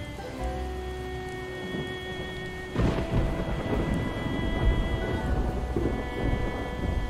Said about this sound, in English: Planted my farm as well, so this rain will be great for that.